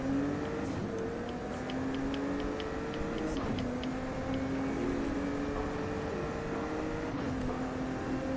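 A car engine in Forza holds a steady, close drone that shifts pitch now and then as the revs rise and fall, with faint regular ticking over it and no talk.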